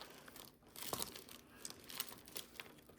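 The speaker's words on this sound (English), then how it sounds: "So let's go ahead and put our money in the envelopes." Cash bills slid into paper envelopes during budget cash-stuffing, giving close, soft rustling and crinkling of paper with a few crisp rubs and no speech.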